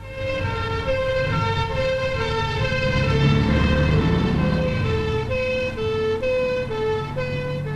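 An emergency vehicle siren, such as a fire brigade engine or an ambulance, wails in a steady two-tone alternating pattern, loud and close, over the rumble of traffic and a moving vehicle.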